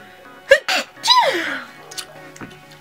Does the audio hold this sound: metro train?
no